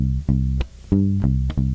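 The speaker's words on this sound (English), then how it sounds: "if I play it with this thumb technique, with this palm muting technique" A bass guitar plays a handful of short, palm-muted low notes plucked with the thumb one after another, each with a soft thumpy attack, close and alone.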